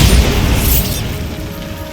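The Bombarda spell from the Hogwarts Legacy video game sets off a deep, loud booming explosion that hits at once and rumbles away over about two seconds.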